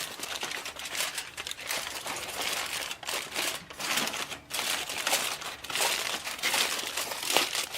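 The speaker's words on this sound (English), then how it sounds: "we'll double wrap them, and as soon as I get them all wrapped up" Ribs are being double wrapped in foil for a Pit Barrel Cooker, with close, loud crinkling and crumpling that comes in irregular bursts for several seconds, with no talk.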